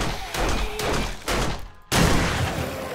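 Pistol shots ring out in the survival video game 7 Days to Die: four sharp, punchy reports spaced unevenly over a few seconds, each fading quickly, with the last one loudest.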